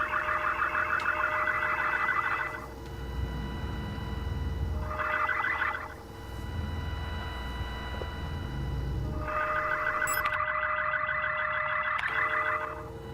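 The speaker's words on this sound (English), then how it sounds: "It almost sounds like a car alarm." A pulsing alarm-like electronic tone inside the video game Signalis, sounding in three long repeated bursts over a low droning ambience, steady and moderately loud.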